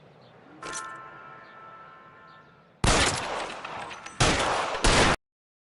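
Gunfire in a shootout from the video game L.A. Noire: loud bursts of rapid shots erupt after a quieter stretch of street ambience with a single sharp crack, the volleys coming close and harsh in three dense clusters.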